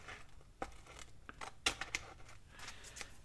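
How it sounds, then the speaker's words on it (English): Scissors trimming excess paper at a crafting table, a few quiet snips and crisp cuts with soft paper crinkling between them, close and faint. "I take my scissors first and I trim off any excess that's sticking out"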